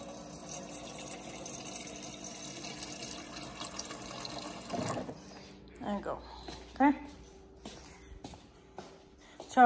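A tap runs as a dog's water bowl is filled indoors, a steady faint rush of water for several seconds that then stops, followed by quiet household sounds and soft talking.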